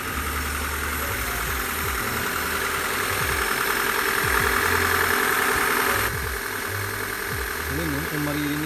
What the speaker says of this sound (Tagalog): Hanggang natin yung tunog ng engine.